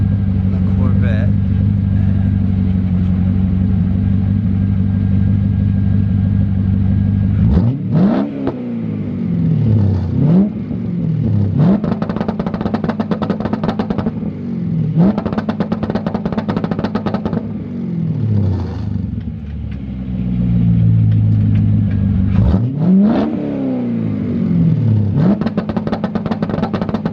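A Corvette C5 engine revs hard again and again, each rise sweeping up then dropping with popping, crackling bursts as it shoots flames, loud and close over a steady idle, with a person talking at points.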